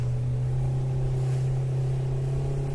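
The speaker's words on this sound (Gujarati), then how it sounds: "પાણી ચડ્યું અને અમે સ્પીડ બોટમાં બેઠા." A speedboat engine drones steadily through mangrove waters at high tide, a constant low rumbling hum with no breaks, close and fairly loud throughout, with no voices.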